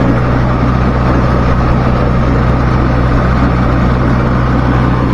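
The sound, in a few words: tractor driving on a highway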